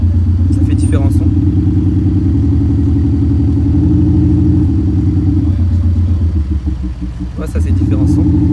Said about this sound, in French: on a le son du ralenti qu'on peut gérer comme on veut